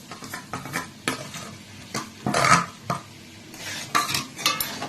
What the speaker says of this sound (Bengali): সব এগুলোকে দিয়ে বেশ ভালো করে কষিয়ে নেব।